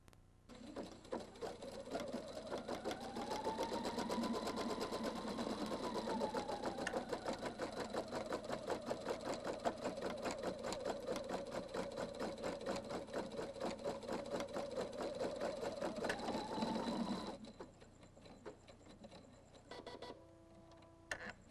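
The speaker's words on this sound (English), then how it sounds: "Touch it one time to sew the design in the upper right corner of the hoop." A Husqvarna Viking Designer II sewing machine with its embroidery unit stitches a design in the hoop, a loud, steady, rapid mechanical whir and needle chatter that runs unbroken for about seventeen seconds before stopping abruptly, leaving quieter handling noises.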